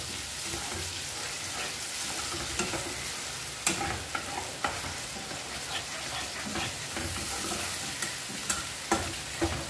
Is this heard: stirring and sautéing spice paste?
yes